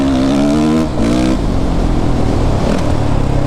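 A Suzuki RMZ450 dirt bike engine revs loudly and close, with a steady throaty drone that rises in pitch, dips briefly, then climbs again in a second rev.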